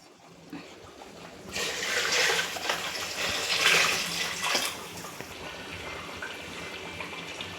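Hot water pours into a cooking pot for a chicken dum biryani, a splashing, rushing gush that swells for a few seconds and then tapers off, moderately loud and close.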